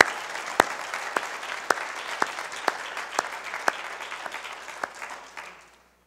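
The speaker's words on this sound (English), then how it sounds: "Please give her a big round of applause" An audience applauds a guest, an advisory board member, as she walks on stage: a crowd's dense clapping with sharp individual claps standing out near the front, gradually thinning before fading to silence.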